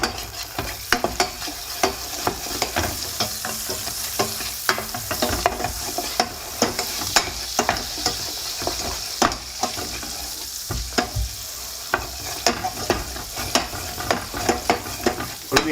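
Butter sizzling in a hot pan with a teaspoon of plain white sugar, a loud continuous crackle punctuated by frequent sharp spits and stirring scrapes, close by with no voices.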